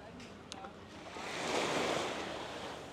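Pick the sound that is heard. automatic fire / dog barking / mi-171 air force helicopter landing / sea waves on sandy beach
sea waves on sandy beach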